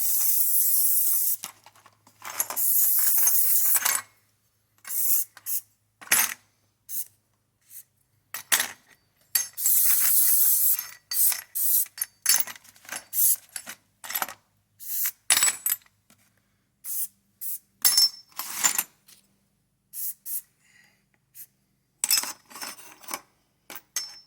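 Short hissing bursts of G96 gun oil spray onto fire-damaged AR-15 parts, two longer blasts among many quick puffs, with light metallic clinks of parts being handled between them.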